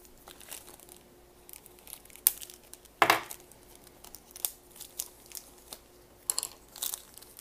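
Packaging around a small LED panel from a Millennium Falcon model kit being opened, with soft crinkling and rustling, a sharp tearing crunch partway through and scattered light handling noises, close and fairly quiet.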